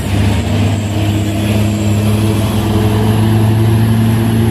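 Heavy truck engines drone steadily up close on an Indonesian road as an aggressive Hino truck tries to overtake a tanker truck, a continuous low rumble with no voices.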